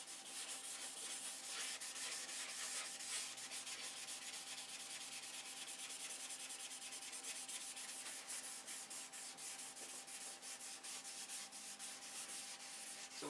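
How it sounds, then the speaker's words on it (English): Steady, close rubbing and scrubbing polishes out 600-grit sanding scratches on a model, a continuous dry abrasive hiss with fast rhythmic strokes and no talking. "I'm just trying to polish the scratches out of the 600."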